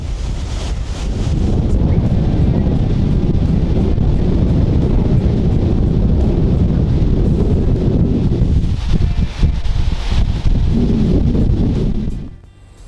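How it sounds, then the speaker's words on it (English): Strong sustained wind of around 35 mph roars in broadband gusts against the microphone outdoors during a deer hunt as a weather front sets in, loud and continuous for most of the clip before briefly easing and dropping off at the end. "This has got to be 35-mile-an-hour sustained winds."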